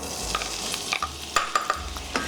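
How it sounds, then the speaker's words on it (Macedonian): Onion fries in oil in a small frying pan, a steady close sizzle broken by repeated sharp scrapes and clinks of a utensil stirring against the pan. "Прво, кромидот да се пржи"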